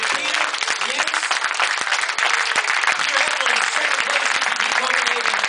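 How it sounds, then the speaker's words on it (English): Audience applause for a poker player after the final hand of a European Poker Tour event in Copenhagen: a dense, continuous roar of clapping that holds steady and loud for the whole stretch. "A big round of applause for Peter."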